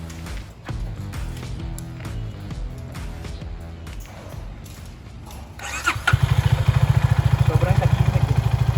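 A CF Moto 300SR motorcycle with its stock exhaust turns over and fires up, then settles into a steady, fast, even putter at idle, heard close and fairly loud with some background noise before the engine catches.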